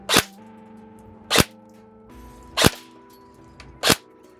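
An airsoft gun firing 0.40 gram BBs at goggles for a safety test, four sharp, loud snapping shots spaced about a second apart, close up over a steady low hum.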